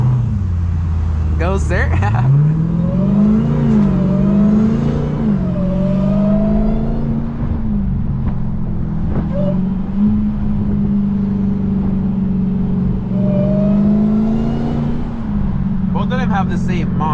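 A Dodge Durango Hellcat launches hard off the line, its supercharged engine revving loud and close through rising and falling gear pulls for over fifteen seconds, with brief talk from occupants over the roar.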